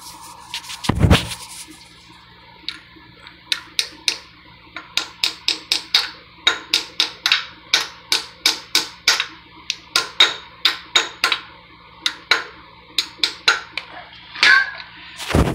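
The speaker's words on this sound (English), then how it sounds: "I just took a hammer and that little socket that I used" Small hammer tapping a little socket while fixing a motorized bike, a long run of close, sharp metallic taps at an uneven, quickening rhythm, with a brief louder thump near the start.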